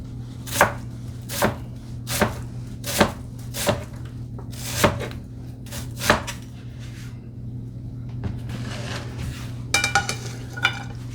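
A knife chops through peeled onions on a cutting board for chicken and rice soup, about eight sharp, evenly spaced knocks followed by a quicker cluster of cuts, with no one speaking.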